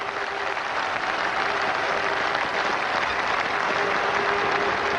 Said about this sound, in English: the whole of the West Indian team stand to applaud him